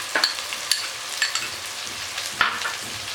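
Tomato cooked down with ginger paste fries in a pan, making a soft continuous sizzle with a few quick scraping strokes of a spoon at irregular intervals, close and with no talking.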